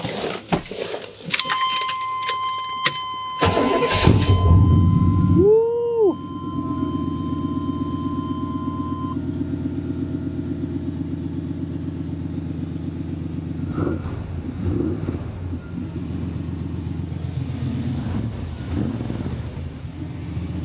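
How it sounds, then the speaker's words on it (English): A 1994 Chevrolet Silverado pickup with 6k miles and dual exhaust turns over after clicks and key jingles, catches with a sharp surge, then settles into a steady, loud, rumbling idle with a slight swell in revs late on. "I'll fire this thing up real quick, click through a couple of the lights, maybe rev it up so we can hear them duals speak"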